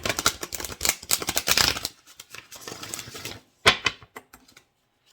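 Oracle cards being shuffled by hand, a rapid close run of dry papery flicks and riffles for about two seconds, then softer shuffling and a few scattered sharper card snaps and slaps.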